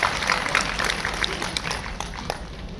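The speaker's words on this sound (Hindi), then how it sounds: "जो लोग आपको यहां पे बुलाकर लेकर आए, उनके लिए और एक बार ताली दे देना" An audience claps at a DXN distributor training meeting in Azamgarh, a loose patter of many hands in a hall that fades gradually toward the end.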